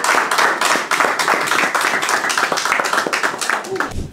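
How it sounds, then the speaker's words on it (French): A small audience claps, with distinct, fairly close handclaps in an uneven rhythm that continue throughout, alongside some voices. "Applaudissez-la"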